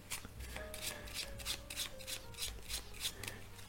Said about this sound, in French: imaginons vous avez un jeu de 52 cartes, le spectateur peut mélanger